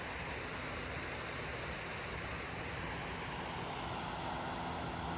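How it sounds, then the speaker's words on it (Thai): A waterfall in a Swedish forest gives a steady broadband rush of falling water, continuous and even from a moderate distance, with no voices. "นู่นค่ะน้ำตกอยู่ตรงโน้น"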